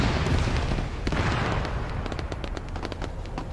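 A tank is destroyed in an explosion in a combat video game, with a dense booming blast and crackling debris over continuous battle noise and rumble.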